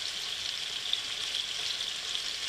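Filet medallions with fresh rosemary fry in a pan, giving a faint, even hiss of sizzling fat that holds steady throughout.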